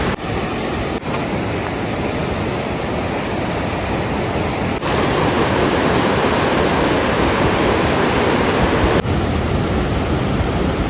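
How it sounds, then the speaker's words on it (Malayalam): Himalayan waterfall on the Annapurna Circuit near Talekhu and Brathang, a steady, loud, broadband rush of falling water that fills the whole scene without pause. "ഇവിടെ വെള്ളച്ചാട്ടമുണ്ട്, കാണിച്ചു തരാം"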